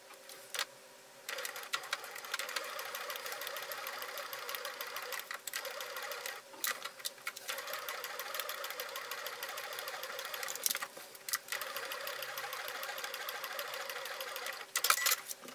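A sewing machine stitches fabric for a cat-shaped handbag in short forward and reverse runs, a rapid mechanical whir broken by brief pauses, close and steady with no talk.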